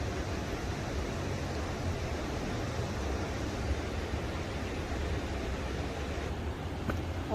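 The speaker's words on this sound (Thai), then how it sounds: "ได้ยินเสียงเหมือนน้ำตกนะคะ" Continuous broadband rush of falling water from a waterfall somewhere ahead on a forest trail in Austria, a steady, even roar heard at moderate distance with no breaks and no voices.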